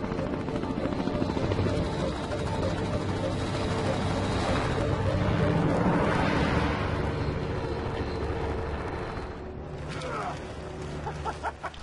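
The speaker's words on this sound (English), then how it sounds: "So when the helicopter drops you off in the Arctic for the first time" Helicopter flying into an Arctic valley, its rotor and engine roar loud and continuous throughout, swelling slightly midway and easing toward the end.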